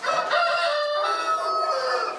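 A rooster at an animal shelter crows loudly and close, one long sustained call with no talk.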